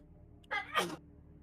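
A single sharp sneeze bursts out in two quick parts, the intake and the release, close and clear against a quiet room.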